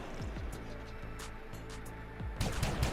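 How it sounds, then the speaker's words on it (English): Video game gunfire crackles in quick bursts of close shots, with a louder cluster of heavy reports near the end over a low engine-like rumble. "Don't mind those bullets"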